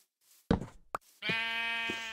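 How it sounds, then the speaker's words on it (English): Sheep in the Minecraft modpack SevTech Ages: a couple of sharp knocks come first, then one steady, nasal bleat that holds for about a second, loud and close, with no talking. "I hear sheep."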